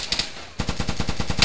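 Rapid bursts of automatic gunfire in the survival game Nyheim, a few scattered shots followed by a fast, steady stream of rounds.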